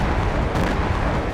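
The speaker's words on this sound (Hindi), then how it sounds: "गाजा में धमाकों का शोर थम नहीं रहा है।" Blasts in Gaza as a continuous, loud, dense rumble with a sharper burst near the middle, no clear separate booms, no voices.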